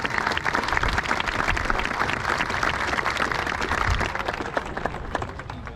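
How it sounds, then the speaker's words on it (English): A graduation audience at a Florida high school ceremony applauds the staff members: dense, sustained crowd clapping fills the hall steadily and loudly throughout, with no talk over it. "Please give them all a round of applause at this time."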